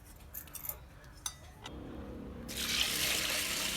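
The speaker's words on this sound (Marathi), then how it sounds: "हे बघा पाणी टाकलं आहे" A few metallic clinks from a pressure cooker holding chana dal are followed by a steady rush of water pouring into it, close and moderately loud.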